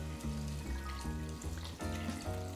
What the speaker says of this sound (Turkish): 1 litre suyun tamamını döktüm.